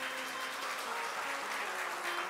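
Audience applause at a Hindu devotional discourse for Karva Chauth: dense, steady clapping from a crowd, fairly loud and even throughout with no voices over it.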